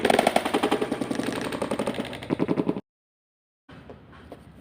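Guilty Longinus and Hyperion Beyblades whir and clatter against each other in a stadium with rapid metallic rattling hits, followed by a pause and a quieter spin.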